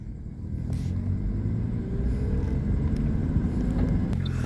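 Cars going by on a town street at night, a steady loud rumble of traffic close by with no one talking.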